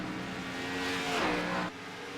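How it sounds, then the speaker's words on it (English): Race cars flying past the start-finish line at Dover in league racing: a loud engine drone swelling and dropping in pitch as a car sweeps by close, then cutting off abruptly. "See where the cars fly past?"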